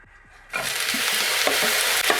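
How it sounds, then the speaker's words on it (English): Broccoli hits hot oil in a wok for a quick stir fry, bursting into a loud, continuous sizzle after a quiet moment, with scraping stirs pulsing through the frying. "So what we do, just very quick stir fry of the broccoli."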